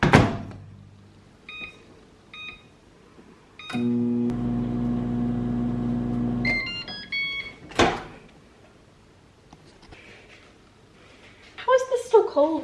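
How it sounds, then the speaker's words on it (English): A microwave oven heating food gives a few keypad beeps, then a steady loud hum for about three seconds. A thunk and more beeps follow, with faint handling and a brief voice near the end. "Anyway, now I'm going to microwave this."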